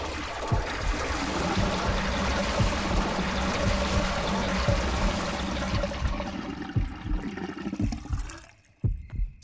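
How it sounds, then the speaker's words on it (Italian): Water gushes and drains steadily out of a pool in the video game Yomawari: Night Alone, a dense rushing wash that thins into trickles and scattered drips near the end, with no voices. "così togliamo tutta l'acqua alla piscina"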